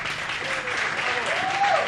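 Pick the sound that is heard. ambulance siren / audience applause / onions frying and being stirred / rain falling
audience applause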